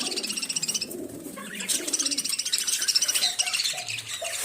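Pigeons, including white pigeons kept in a home aviary, coo in soft repeated low calls alongside steady chirping from other small birds nearby, with no talk.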